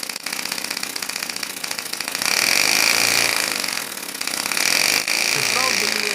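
A small 3D-printed air-powered motor runs steadily at high speed, with a dense, buzzing whir and hiss of escaping air that swells louder midway and stays continuous throughout.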